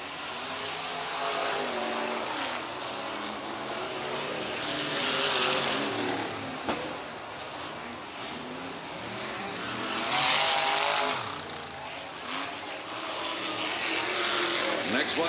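Dirt-track race cars lapping Southern Oregon Speedway, engines roaring continuously as they pass, swelling loud and fading in long waves, with a distant announcer's voice over the noise.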